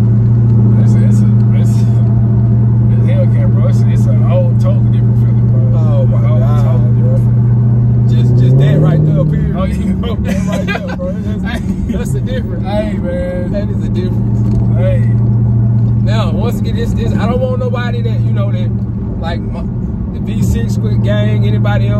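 A Dodge Challenger Hellcat drives with a steady, loud engine drone that shifts pitch partway through as it changes speed, while a person talks over it throughout.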